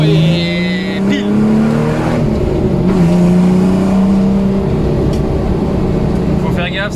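A Ford Sierra XR4i V6 rally car is driven hard from inside the cabin, its engine droning loudly and rising and falling in pitch as it revs and shifts, with a voice talking over it.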